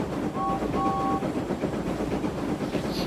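A toy train engine pulls an express along its track, rattling steadily throughout, with a short double toot of a whistle near the start.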